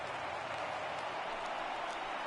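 Broad steady roar of a large stadium crowd, over 39,000 fans on their feet cheering and applauding in a baseball video game during a National League Championship Series playoff game, a dense continuous wash of clapping and crowd noise.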